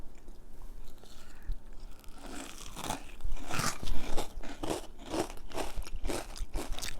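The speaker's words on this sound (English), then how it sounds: "you guys ready to try our newly developed peanut butter crunch snowballs?" Homemade peanut butter crunch snowballs, a Halloween candy, are bitten and chewed close up, giving a run of crisp crunches that grow denser and more rhythmic as chewing continues.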